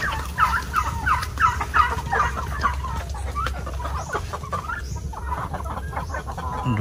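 Native chickens on a farm cluck and cackle close by, with repeated short squawks and calls over a low background rumble.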